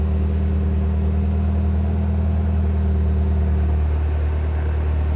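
A Mini Cooper S R56 idles just after starting, a steady, close engine drone with a low rumble and faint mechanical hum, unchanging throughout with no talking.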